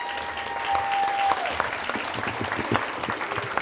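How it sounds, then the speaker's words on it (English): An audience at a cotillion and beautillion ceremony claps in a short burst of applause, a dense patter of hands that tapers off, with a brief tone and some voices mixed in. "Won't you give them applause?"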